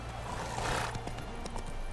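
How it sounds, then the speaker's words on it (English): Horse in The Witcher 3 video game moving and whinnying, with a soft clip-clop of hooves and a neigh over a quiet background. "Where are you going, Roach? Come on. Whoa there, Roach."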